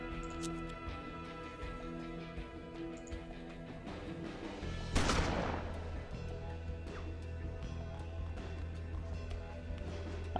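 A single sharp gunshot cracks midway through a quiet Hard West game scene over a steady musical drone, with a few faint ticks and clicks around it.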